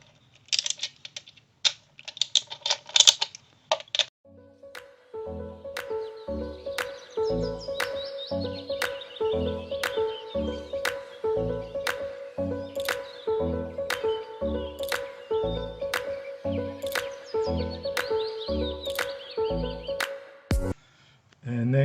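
Bolts being loosened on the valve cover of a 2003-2007 Honda Accord: a steady run of sharp ratchet clicks in quick repeated bursts, close and fairly loud, after a brief clatter of handling at the start.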